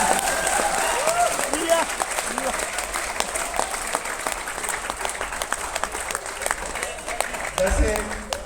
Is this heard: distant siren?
no